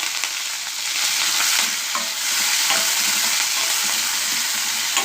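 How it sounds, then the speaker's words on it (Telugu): Mustard seeds, cumin, onion, green chilies and curry leaves fry loudly in hot oil for a bitter gourd curry, a dense, continuous crackling sizzle close by with brief stirring scrapes. "ఆవాల జీలకర్ర వేస్తున్నాను"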